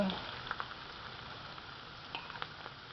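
Large Taiwan garlic sautés in a pan, a faint, steady frying hiss with a few soft clicks of stirring, heard at a low level with no talk.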